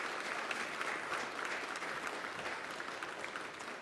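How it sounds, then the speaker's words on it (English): A church congregation applauds during a Sunday worship service, a steady round of clapping from many hands that holds at an even level and sounds somewhat distant, with no voices over it. "Can we give her another round of applause"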